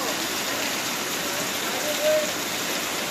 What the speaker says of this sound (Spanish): está pero lloviendo súper, súper fuerte